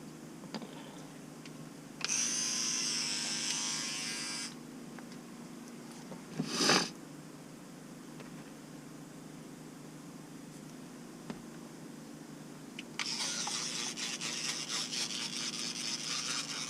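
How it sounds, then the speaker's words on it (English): A powered electric toothbrush brushes teeth off-grid, with two bursts of buzzing, scrubbing noise lasting a few seconds each, separated by quiet and a short rustle. "Time to off-grid brush my teeth with a powered toothbrush."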